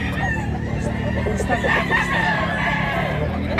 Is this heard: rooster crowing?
yes